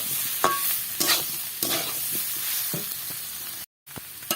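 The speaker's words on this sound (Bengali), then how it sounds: "আর একটু ভালো করে এটাকে নাড়াচাড়া করে কষিয়ে নিতে হবে মশলাটা" Spice masala with turmeric being stirred and fried in a pan, a steady soft sizzle broken by several scraping stirs of a spoon, close by, with a brief dropout near the end and no talking.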